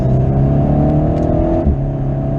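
A car engine revs steadily close by on a race track, its tone rising and holding as the car accelerates out of a corner, loud and continuous with no voices.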